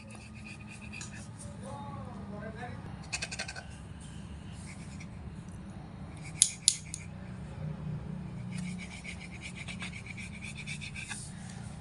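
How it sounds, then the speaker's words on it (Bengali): A knife slowly slices rolled flour and potato dough into long strips, giving soft, faint scraping strokes over a steady low background hum, with a couple of sharper taps partway through. "এবার এই চৌকো শেপটাকে আবারও এরকম লম্বা করে কেটে নেব একটু খুব আস্তে আস্তে কাটতে হবে"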